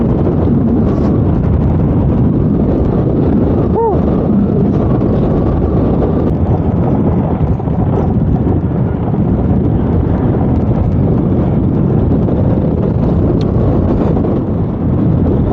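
Steady, broad rumbling wind buffets the microphone for the whole stretch, loud and continuous with no voices.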